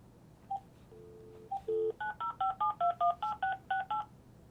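AT&T DECT DL72219 cordless phone keypad producing a rapid string of DTMF dialing tones, about a dozen short evenly spaced beeps after a couple of initial key tones, clear and close with no talking.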